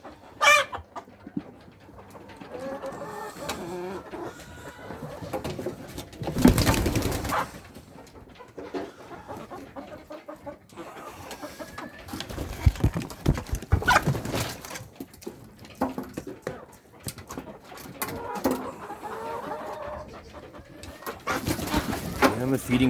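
Black sex-link rooster and a flock of chickens at feeding time on a ranch, with clucking and cooing bird calls scattered throughout, bursts of louder commotion and flapping, and a person's voice now and then.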